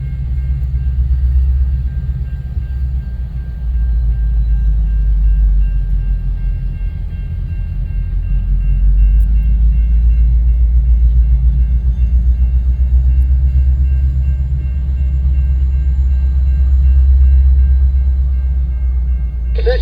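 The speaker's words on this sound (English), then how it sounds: "Listen to that lovely sound of the EMD 710 prime mover." Deep, steady diesel throb from the EMD 710 prime mover of Canadian National locomotive 5466 working train L519 at Ladysmith, Wisconsin, a loud continuous low rumble that swells and eases over the stretch with no talking.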